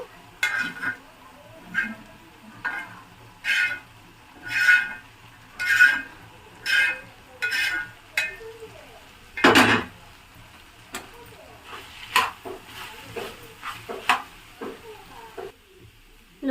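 Intermittent scraping and clinking of a utensil stirring okra and potato in a pan, in short rhythmic strokes with a louder clatter midway, close and fairly quiet.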